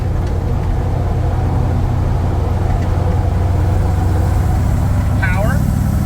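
A 1956 Chevy pickup engine runs steadily on a drive, a continuous low rumble throughout, with the truck suffering a major coolant leak; a brief rising squeal appears near the end.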